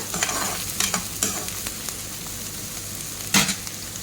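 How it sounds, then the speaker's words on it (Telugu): Onions fry in hot oil with a loud, close sizzle, broken by quick scraping stirs and one sharper clatter near the end. "ఇప్పుడు ఆనియన్ వేసేసుకున్నాము వీటిని బాగా ఫ్రై చేసుకోవాలి"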